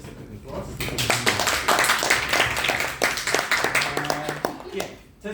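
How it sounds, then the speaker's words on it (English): Applause from a speakers' club audience at an evening meeting in Brunei, brisk hand clapping building up and continuing for several seconds, with speech mixed in beneath it. "And just a quick applause."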